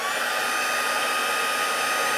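A heat tool melts embossing powder on a handmade circle card. It gives a loud, steady, continuous blowing hiss that stays constant and close, with no talk.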